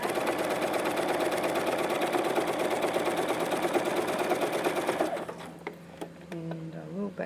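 A sewing machine stitches a seam with an invisible zipper: a fast, even mechanical whir with a rapid rhythmic needle beat runs close and loud for about five seconds, then stops, leaving quieter handling sounds.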